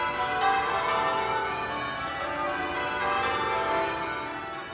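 English-style full-circle church tower bells ring continuously, with strikes blending into a dense, resonant, sustained tone at steady volume and no speech.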